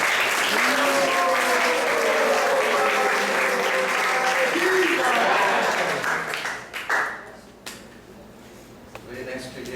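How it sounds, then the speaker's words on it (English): Applause for a speaker at a Sunday temple class in Atlanta, a dense wash of many hands clapping at once with voices mixed in, holding steady for about six seconds before thinning out and trailing off into scattered claps. "Let's give a round of applause for Goparaj"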